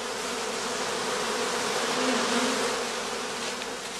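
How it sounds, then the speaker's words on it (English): A honeybee swarm clustering around a straw skep hums in a dense, steady drone of many wings, loud and continuous without pause. "They collect to form a swarm cluster of increasing size."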